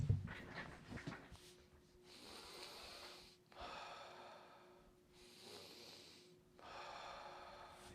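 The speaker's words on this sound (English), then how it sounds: "You should be breathing from your stomach." Deep breaths drawn from the stomach during a singing exercise: long, rushing inhales and exhales alternate in slow, even cycles, close and clear with no speech.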